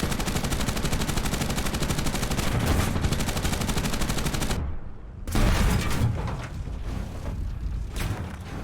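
Rapid, sustained machine gun tracer fire from aircraft in a video game air battle against G4M1 Betty bombers. Loud and continuous, with a brief break midway before the dense burst resumes.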